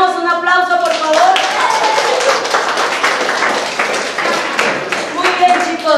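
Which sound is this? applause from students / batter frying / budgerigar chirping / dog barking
applause from students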